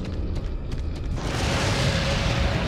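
A burst of fire lashing an enemy in Resident Evil 4, a sudden loud whooshing, roaring rush that swells and holds steady after a short stretch of quieter game noise.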